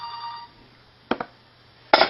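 A telephone ringing during a talk on how automatic transmissions work: a fading tone at first, then short bursts of sharp electronic ringing, close and clear.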